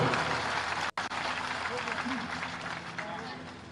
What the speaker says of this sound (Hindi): जोरदार ताली से आशुतोष का स्वागत करो